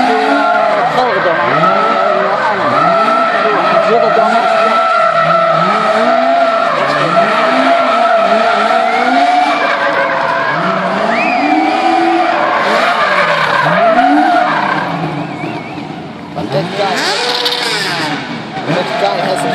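A Nitro Circus stunt car skids in long sweeping drifts, its tires squealing loud and close in repeated rising and falling arcs over roaring engine noise, with people talking over it.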